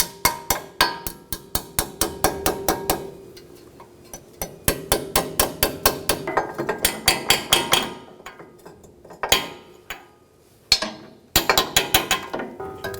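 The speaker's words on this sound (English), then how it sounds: "I'm going to go around and give it a light few taps." Hammer tapping a lower ball joint into the steering knuckle of a 2013-2017 Honda Accord, a long run of sharp, close metallic taps in quick uneven clusters with brief pauses between.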